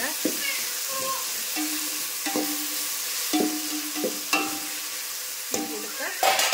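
Tomatoes fry in oil in a pan, a continuous soft sizzle broken by intermittent scraping and stirring clatters of a utensil against the vessel, heard close with no talking.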